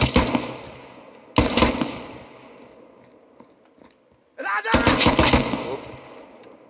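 A rifle fired from the hip at an outdoor shooting range cracks out in loud, sharp bursts, with a short volley, another shot a moment later, then a longer rapid string, each trailing off into echo.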